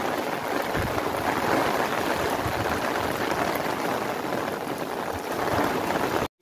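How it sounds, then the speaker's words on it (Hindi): Heavy rain pours down over a village in Punjab, Pakistan, a dense, steady roar of drops close by, continuous and unbroken before cutting out abruptly at the end. "बादल आ गए और इतनी ज़बरदस्त बारिश है"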